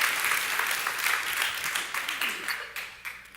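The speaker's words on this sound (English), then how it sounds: "yeah, you can clap for that." A church congregation claps in response to the pastor, a brief burst of applause that holds and then tapers off toward the end.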